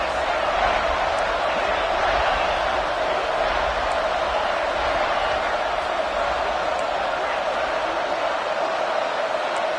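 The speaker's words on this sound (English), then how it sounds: "the crowd coming to life here, trying to help this defense down in the red zone" Football stadium crowd cheers during a college game as the defense holds in the red zone, a steady, dense roar of many voices filling the whole stretch without letup.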